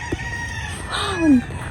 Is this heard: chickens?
yes